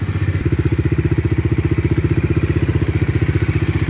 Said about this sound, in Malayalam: വണ്ടി സ്റ്റാർട്ടായിട്ടുണ്ട്.